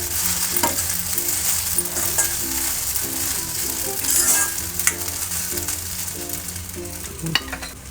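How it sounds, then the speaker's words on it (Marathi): Sabudana sautéing in oil in a pan for fasting khichdi, a steady close sizzle with repeated scraping strokes of a spoon stirring through the frying pearls. "साबुदाणे चांगले परतून घ्यायचे तेलामध्ये"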